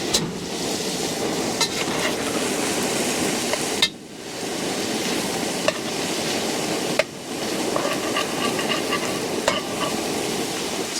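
Sausage fries in a pan at a family campsite, a steady close crackling sizzle broken by a few sharp clinks and brief pauses where the pan is handled, with no talking.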